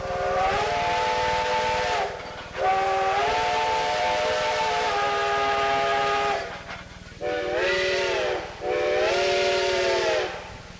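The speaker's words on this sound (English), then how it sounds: "as the double-headed train departs Chama and begins fighting its way up to Cumbres Pass" A double-headed steam train departing Chama, New Mexico, for Cumbres Pass sounds long, loud harmonic whistle blasts, with short gaps between repeated blows over a steady rumble of the locomotives.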